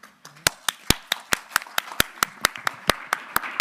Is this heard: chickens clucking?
no